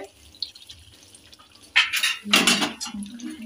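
Water is poured into a pot of cooking meat curry, starting with a few faint drips and clinks and then swelling into a louder splashing, bubbling gush, close by, with no talk.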